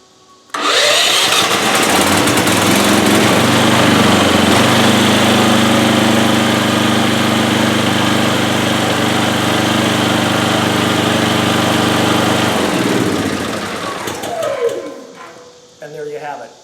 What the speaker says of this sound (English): We'll go ahead and turn the master switch on, and then we'll push the start button.